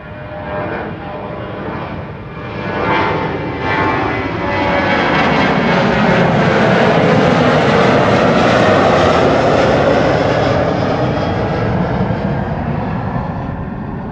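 A jet airliner takes off from runway 24 at Amsterdam Schiphol, its engines roaring loud and close, swelling steadily into a broad sustained rumble that holds through to the end.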